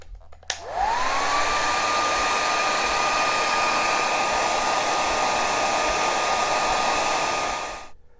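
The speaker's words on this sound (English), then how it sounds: "you can also use a hair dryer if you want to speed things up" Hair dryer blowing on a guitar's finish, switching on with a rising whine and then running as a loud, steady, close whoosh for several seconds before cutting off.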